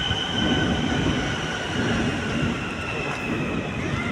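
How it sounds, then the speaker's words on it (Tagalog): A passenger train in Medina, Saudi Arabia, runs with a steady, loud rumble and rolling rail noise heard from on board, with faint wheel squeal and no talking. "So yung train dito guys, ikumpara ko sa train natin"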